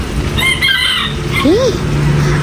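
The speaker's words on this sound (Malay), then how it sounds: "Ayam ketok." A chicken clucking nearby, a couple of short squawky calls over a noisy background.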